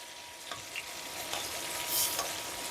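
Sirloin steak searing in a hot pan gives a steady, close, crackling sizzle throughout, with a few brief spits and pops.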